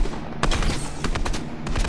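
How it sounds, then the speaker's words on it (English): Rapid bursts of pistol fire crack in a Fortnite match, several quick shots in close succession across under two seconds, loud and near with no talk. "He's shooting a gun at me!"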